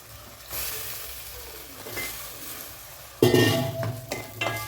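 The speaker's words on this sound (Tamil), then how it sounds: "இப்போ நான் எடுத்து வச்சுருக்க கத்திரிக்காயை போட்டுக்கிறேங்க." Brinjal pieces sizzle in hot oil with green chillies as they are sautéed in a pan for sambar, a steady frying hiss that swells into louder sizzling and spoon-and-pan clatter as the stirring picks up.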